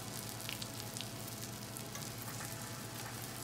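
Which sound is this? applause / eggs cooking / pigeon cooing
eggs cooking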